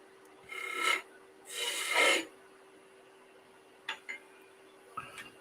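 Two short rasping cuts from a skew chisel on a small wood lathe project, each about half a second long, followed by a few faint light ticks and taps, with no talking.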